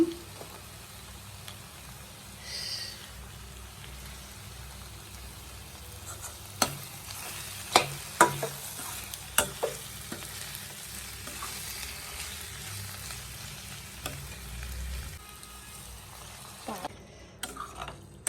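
Drumstick curry with chili powder is stirred in a pan, a soft steady sizzle under sharp spoon scrapes and clinks against the pan, fairly quiet and close.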